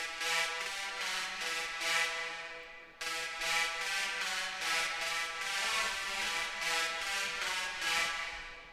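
Two layered synth lead parts, panned hard left and right, from a remix play a bright, steady pulsing riff in repeated bursts, with a brief break near the midpoint before the pattern restarts.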